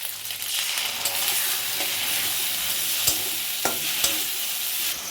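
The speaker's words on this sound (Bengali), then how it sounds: "এবার সমস্ত মশলা দিয়ে খুব ভালো করে কষিয়ে নেব" Ginger paste and ground spices stir-fried for dhokar dalna, a steady loud sizzle with a few sharp clicks of the spoon against the pan, heard alone without talk.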